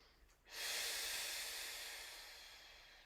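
A single long, deep breath flows out close and soft during a pilates stretch, a steady airy exhale that slowly fades, with no speech.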